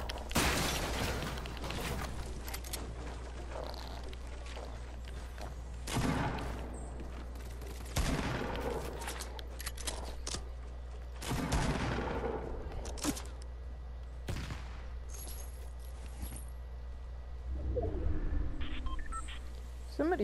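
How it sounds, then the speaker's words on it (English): Gunfire in a video game, with scattered sharp shots and short bursts spread across a steady low hum, heard at moderate distance, with a few other game noises mixed in. "Somebody's shooting at me, but I have no idea from where."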